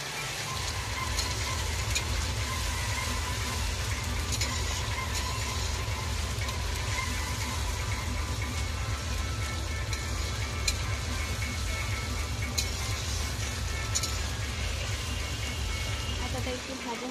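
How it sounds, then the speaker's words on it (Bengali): Ginger sizzles in a pan while frying for mutton curry, giving a steady, crackling hiss like light rain that runs the whole time. Someone talks over it in Bengali. "আদাটা একটু ভাজা হবে"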